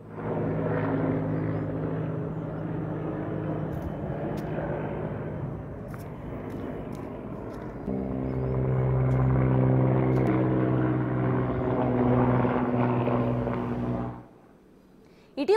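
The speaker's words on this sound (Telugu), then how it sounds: "క్రాస్ అయిన హెలికాప్టర్ను తాడు కట్టి సైన్యం Mi-17 చాపర్తో తరలించేందుకు ప్రయత్నించారు" An army Mi-17 helicopter flies while carrying a crashed helicopter slung on a rope at Kedarnath, its steady rotor and engine drone loud and continuous, swelling slightly partway through before cutting off near the end.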